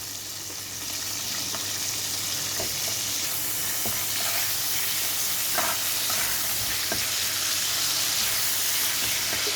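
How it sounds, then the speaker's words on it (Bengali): Sliced onions sizzle and crackle steadily in hot oil with cumin seeds, a close, continuous frying hiss with occasional soft stirring clicks throughout. "এবার আমি এতে দেব পেঁয়াজ কুচি, লম্বা লম্বা করে কেটে রাখা কিছুটা পেঁয়াজ।"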